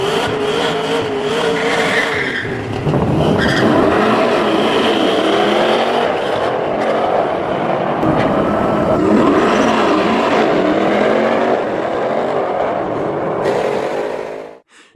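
A 2026 Dodge Durango SRT Hellcat Jailbreak engine roars loud and steady, with revving, tire squeal and a continuous throaty drone that cuts off abruptly at the end.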